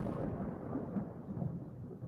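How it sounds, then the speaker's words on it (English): A low, rumbling roll of thunder fills the air, a continuous dull boom with no clear strikes, moderately loud and steady for about two seconds with no voices. "it's like thunder or lightning"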